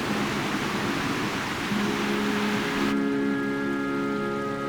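Heavy typhoon rain in the Philippines pours in a dense, steady hiss, loud and close throughout, with a low tonal hum emerging partway and the upper wash thinning near the end.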